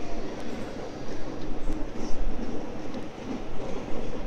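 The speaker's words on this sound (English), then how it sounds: "I think it's departing." A City Circle train departing a platform at Redfern station, with a continuous rolling rumble and rattle of wheels on track, steady and fairly close, with no talk over it.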